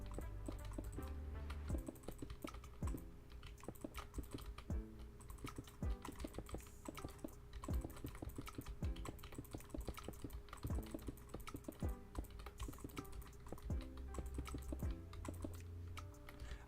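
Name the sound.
computer keyboard typing while playing Minecraft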